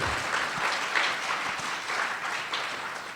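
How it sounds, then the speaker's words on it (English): Sustained applause from a sizable audience, steady dense clapping throughout without a break. "let's give a big round of applause to Glen"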